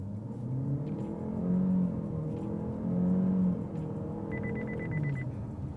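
A 2024 Chevrolet Malibu RS accelerating hard from a roll with the pedal floored, engine droning loudly and climbing in pitch through shifts, and a short electronic warning beep near the end.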